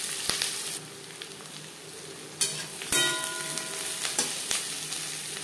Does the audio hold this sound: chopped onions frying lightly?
yes